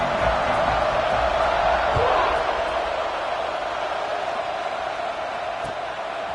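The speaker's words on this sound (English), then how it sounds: "This crowd is buzzing after that last score." A large football stadium crowd at an A&M versus Wolverines game keeps up a dense, loud, steady roar of murmuring and cheering after a score, fading slightly toward the end, with a commentator's voice over it.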